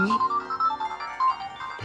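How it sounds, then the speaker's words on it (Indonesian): A phone ringtone plays a repeating electronic melody of short tonal beeps, fairly loud and close, with no one speaking. "Telepon bunyi."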